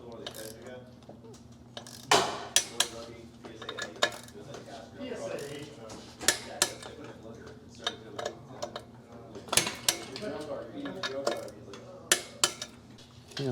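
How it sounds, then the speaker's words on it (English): Bicycle crank bolts are torqued during a Shimano GRX Di2 12-speed build, producing a string of sharp metallic clicks and ratcheting ticks at irregular intervals over a low steady hum, close to the microphone. "Torquing our crank bolts."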